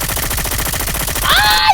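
Rapid gunfire from a shooter video game fills the whole stretch as a dense, continuous automatic burst, loud and close, with a brighter clattering effect rising near the end.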